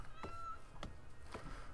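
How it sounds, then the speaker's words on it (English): A cat in the video game Rimworld meows several times, giving short, clear, moderately faint calls spaced about half a second apart over a low background hum. "We have a cat, it looks like."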